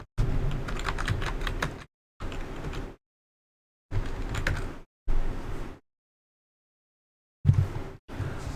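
Rapid typing on a computer keyboard while an IP address is entered, coming in several separate bursts of quick key clicks with short silent gaps between them, close and clear with no talking.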